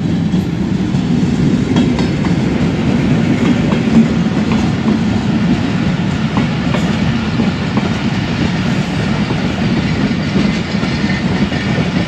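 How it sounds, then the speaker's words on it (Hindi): Sukkur Express passenger train hauled by an AG-30 locomotive passing at reduced speed, a loud, steady rumble of wheels and wagons with rhythmic clickety-clack on the rails, close by and continuous throughout. "वन फोर्टी सिक्स डाउन सक्कर एक्सप्रेस आ रही है AG-30 लोकोमोटिव के साथ।"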